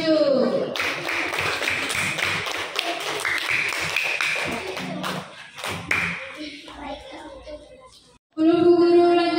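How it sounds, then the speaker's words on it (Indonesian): Classroom applause for a student who came to the front, a burst of many hands clapping close and loud for several seconds, fading out, then a teacher's voice speaking alone. "Beri tepuk tangan untuk teman kalian yang sudah berani maju."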